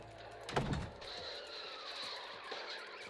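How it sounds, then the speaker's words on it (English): Cars smashing together in the valet driving game Angry Valet, a loud crunching impact near the start followed by a steady engine drone with fainter knocks and a thin whine continuing underneath. "You're hitting a lot of cars there."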